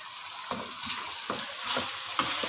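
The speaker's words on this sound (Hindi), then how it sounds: "चलिए मैं इसको भून लूँ" Vegetables for a potato, fenugreek, carrot and pea dish sizzle in a pan, with a constant frying hiss broken by repeated scraping strokes of stirring every half second or so.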